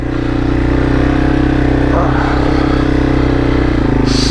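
A Yamaha TW200 dual sport motorcycle ridden through deep, soft sand, its engine droning steadily and loud up close, with a steady low rumble throughout and a brief change near the end.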